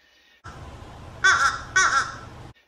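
A crow caws twice, two loud harsh calls close together after a brief faint lead-in of background noise, standing alone with no voices.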